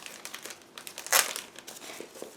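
A clear plastic bag holding a scale model kit's assembly manual and decal sheet is opened, with soft crinkling that peaks in one sharp rustle midway, then lighter scattered crackles, close and fairly quiet.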